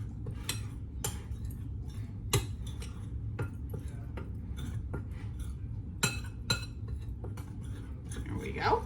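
Flour, salt and cinnamon stirred together in a bowl, heard as a run of sharp clinks and taps of utensil against the bowl, irregular and close over faint background noise.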